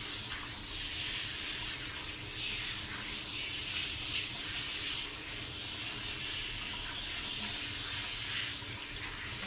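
Tap water runs steadily while a dog is being bathed, a continuous close hiss and splash that holds level throughout with no talk.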